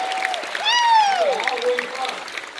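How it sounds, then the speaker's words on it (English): Game show studio audience applauding and cheering, steady clapping of a crowd under a host's voice speaking over it. "54 years deserves a big round of applause."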